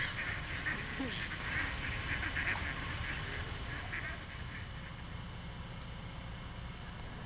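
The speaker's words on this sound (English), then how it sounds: "The place was some kind of a draw for ducks." Ducks quack in short scattered calls over a steady outdoor background hiss in Hagley Park, Christchurch, moderately distant and fairly faint, fading after the first few seconds.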